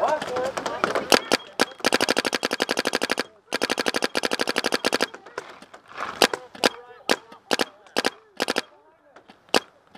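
Paintball markers fire during an outdoor game, with rapid bursts of dozens of sharp pops followed by scattered single shots, and shouting voices mixed in.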